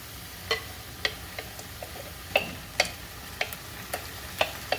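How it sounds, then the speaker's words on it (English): Vegetables sautéing in a pan with shrimp and zoodles, a low steady sizzle punctuated by sharp, spaced clicks and taps of a utensil against the pan, near and fairly quiet, no talking. "We're going to be sauteing all of that."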